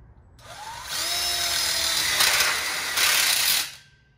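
Power drill driving screws into the bottom of a wrap-around backsplash kit: a short rising whir, then a loud steady spin with a brief surge before stopping.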